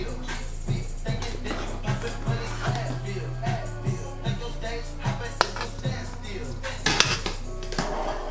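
Crab boil being scooped from the pot with a skimmer, giving a string of soft metallic scrapes and knocks at an uneven pace over a low steady hum, fairly quiet, with no talking.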